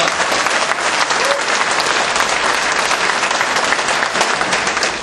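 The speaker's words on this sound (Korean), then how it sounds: "이인영 후보께 참 축하해 고맙다는 박수를 보내주고 싶습니다." An audience claps loudly and densely at a Daegu–Gyeongbuk political rally and joint campaign speech event. The applause is a steady, full roar that lasts the whole stretch and eases slightly at the end.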